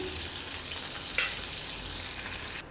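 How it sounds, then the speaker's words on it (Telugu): Chicken pieces deep fry in hot oil with a dense, even crackling sizzle throughout, broken by a brief louder spatter midway. "ఇవి ఒక ఫైవ్ మినిట్స్ అయితే ఫ్రై అయిపోతాయండి"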